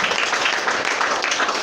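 A church congregation at a Sunday service claps for Jesus in a dense, sustained burst of many hands, loud and close, continuing without pause throughout.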